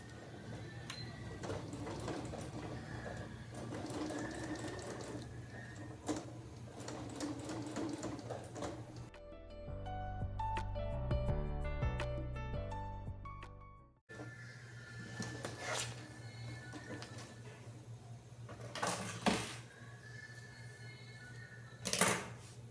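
A sewing machine stitches fabric along a zipper on a shampoo-holder travel bag. A steady whirring, clattering run is close and continuous, broken in the middle by a stretch of music before the stitching resumes. A few sharp knocks come near the end.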